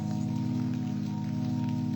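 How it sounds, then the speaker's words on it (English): Rain falls in a steady, even hiss that fills the whole stretch, laid over a constant low droning hum with no voices. "Open up the skies and let the rain fall."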